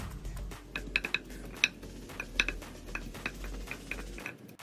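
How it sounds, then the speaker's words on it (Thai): Repeated light clinks and taps of a pestle pounding chili and garlic in a mortar, irregular and moderately close, over a low steady background hum. "แล้วก็จะใส่พริกลงไปนะคะ แล้วก็ใส่กระเทียมแล้วก็ตำค่ะ"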